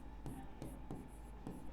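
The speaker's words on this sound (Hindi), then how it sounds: "लिख देता हूं मैं यहां पर" Marker or chalk strokes on a board during a chemistry lesson, four short scratchy strokes in an uneven rhythm, close and soft over a steady low hum.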